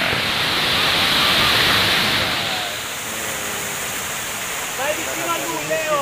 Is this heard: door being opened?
no